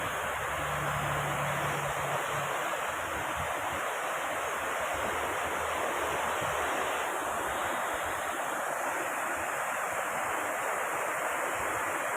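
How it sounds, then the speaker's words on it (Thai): Water rushes steadily at the Raksawarin hot springs in Ranong, a loud continuous roar of flowing water close by with some wind buffeting, and no other sounds stand out. "ได้ยินเสียงน้ำนะคะ"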